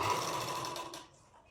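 A sewing machine runs steadily while stitching a princess cut blouse, loud and close for about a second before cutting off and leaving faint room noise.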